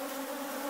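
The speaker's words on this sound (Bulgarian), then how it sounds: "пчелите са доста около нас" Honeybees buzz close around beekeepers working hives set at the foot of hills, a brief, steady, droning hum with no voices.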